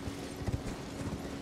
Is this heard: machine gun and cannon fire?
no